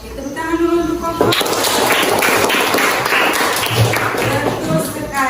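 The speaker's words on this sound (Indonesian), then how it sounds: "Tepuk tangan dulu untuk Koko" Applause for a child named Koko in a classroom setting, a broad burst of clapping that swells after a second and carries steadily to the end, with voices mixed in.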